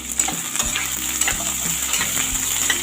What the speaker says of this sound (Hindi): इसको अच्छा ब्राउन होने तक हल्का सा भून लेते हैं